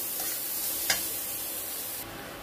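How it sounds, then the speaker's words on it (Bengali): Turmeric-spiced masala frying in a pan while being stirred, a soft steady sizzle with a single sharp utensil tap midway, quiet and close. "1/2 টেবিল স্পুন হলুদ গুঁড়ো দিয়ে মশলাটাকে একটু ভালো করে কষে নিচ্ছি।"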